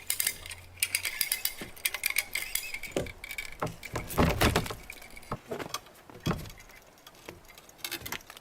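Ratchet tension strap clicking as it tightens around a heavy raw pine log in a log cabin wall, a series of irregular metallic clicks and rattles at close range with some scraping between them.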